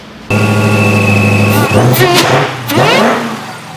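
A customized supercharged Dodge Challenger Hellcat, modified with Kenny Bell superchargers, idles loudly then revs hard in two sharp bursts, its engine note rising and falling close by with no talk.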